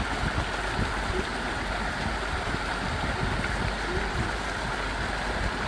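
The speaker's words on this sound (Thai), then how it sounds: "น้ำตกสวยๆ" A waterfall on an island in Finland pours in a dense, steady rushing roar, loud and continuous throughout with no voices over it.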